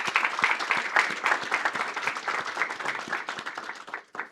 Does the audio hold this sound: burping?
no